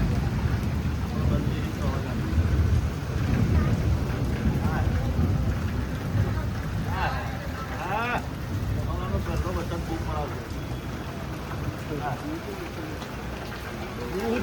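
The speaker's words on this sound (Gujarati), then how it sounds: "બહુ વરસાદ જોરદાર પડે" Heavy rain pours down during a thunderstorm, a steady loud wash that stays constant throughout, with several people talking over it for much of the time.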